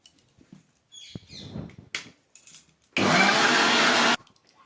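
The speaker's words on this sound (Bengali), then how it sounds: "প্রথমে আমি কলাগুলোকে মিক্সার গ্রাইন্ডারের মধ্যে সমস্ত কাটা কলাগুলো আর 1 কাপ সুজি, 1 কাপ তেল, আর 1 কাপ চিনি, একটুখানি নুন দিয়ে আগে আমি পেস্ট করে নিচ্ছি" An electric mixer grinder runs in a loud, steady burst of just over a second, blending bananas with semolina, oil, sugar and salt, preceded by quieter handling clatter and clicks.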